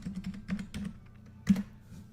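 Computer keyboard being typed on close by, a quick run of soft key clicks, a brief pause, then a sharper keystroke and a few final taps.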